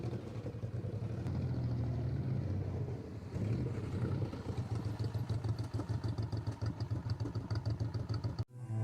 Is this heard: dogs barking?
no